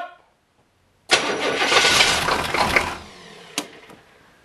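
An engine cranks briefly and catches, roaring up loudly for a couple of seconds before settling to a quieter idle, with a sharp click near the end.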